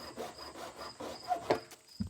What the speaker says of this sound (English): Cut off one of the nubs on the side of the rain barrel.